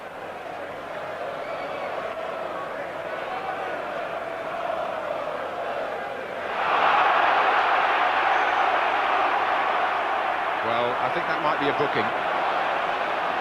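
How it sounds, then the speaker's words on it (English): A football stadium crowd at Nottingham Forest versus West Ham United, 1990–91, surges into a louder roar reacting to a tackle, a broad distant swell under steady commentary talk. "The crowd on the far side reacted to the tackle"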